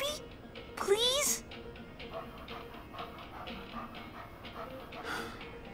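A puppy pants in the video game Life is Strange 2, a brief burst of quick breathy panting with a small whimper near the start, then faint background under soft game ambience.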